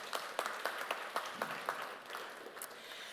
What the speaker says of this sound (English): He also deserves an applaud.